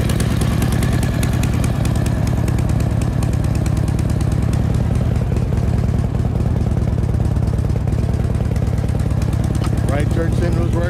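A 2007 Harley-Davidson Road King with a 103 cubic inch engine runs steadily at idle, a loud, continuous, close-up throbbing rumble that holds unchanged throughout.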